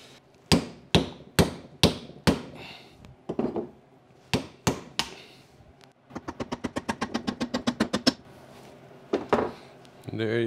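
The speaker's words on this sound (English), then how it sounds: "I'm going to use the back of this hammer, which is aluminum." The aluminum back of a hammer strikes a 1972 Triumph GT6 differential to drive out a bearing: sharp metallic taps land singly, then come in a fast even burst of about a dozen blows, then a few more, close and clear.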